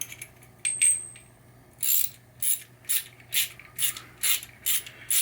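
Bolts being tightened on a Harbor Freight pinball lift table: a short metallic clink, then a run of crisp, evenly spaced ratcheting clicks close by, over a faint steady hum.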